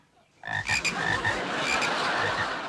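Frogs croaking in a chorus, beginning abruptly after a brief quiet moment, then a dense, loud mix of rasping croaks and trills that continues steadily to the end.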